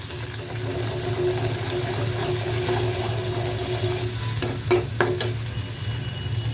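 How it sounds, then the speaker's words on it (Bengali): Masala with garlic paste and salt stir-fried in a pan for a prawn and Malabar spinach dish: steady oil sizzle with scraping spoon strokes, and a few sharper clinks near the end, close and continuous. "তা দিয়ে আমরা মশলাটাকে ভালোভাবে কষিয়ে নেব।"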